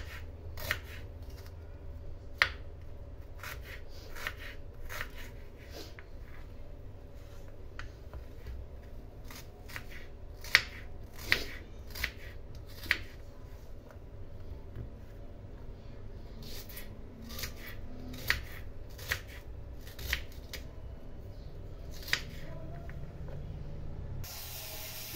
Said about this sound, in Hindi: अब मैं ये प्याज लहसुन मैंने छील लिया है, प्याज में काट लूँगी